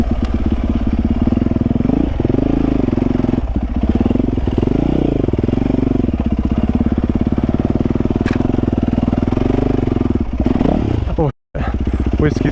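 A dirt bike ridden over a series of whoops on a trail, engine loud and close throughout with rising and falling revs, rattling clatter from the bumps and a brief cutout near the end.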